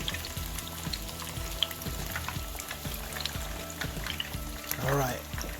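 Pieces of fish and shrimp fry in a pan with a steady close sizzle and popping crackles, a brief pour or splash of liquid near the end.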